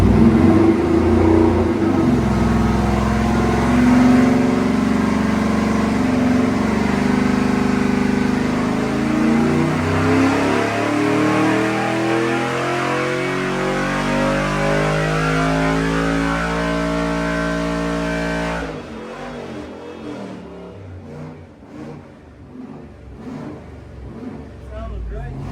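A junkyard 5.3 LS V8 on a dyno, fed by a carburetor with a spacer, roars through a full pull as its rising note climbs steadily for about eighteen seconds, then drops off abruptly into a lower, rougher idle.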